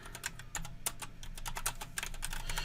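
Rapid keystrokes on a computer keyboard, a dense run of close, crisp clicks over a low background hum while a price is entered in a quote system.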